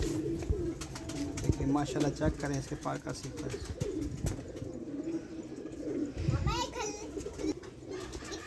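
Young pigeons of a Chinese and Teddy pigeon cross coo softly in a loft in Lahore, with brief flutters, beneath someone speaking steadily close by.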